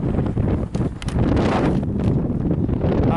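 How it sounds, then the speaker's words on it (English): Gusty wind roars and buffets a microphone outdoors on a windy day, a dense, continuous rush with brief dips between stronger blasts. "It was a windy day"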